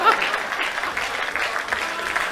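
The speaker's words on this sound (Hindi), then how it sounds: "और जितनी आपने तालियां बजाई है" An audience at a live comedy poetry show applauds, a dense steady wash of many hands clapping, loud and continuous throughout.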